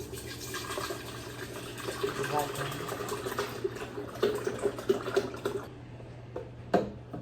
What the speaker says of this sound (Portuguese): vai 1 litro de leite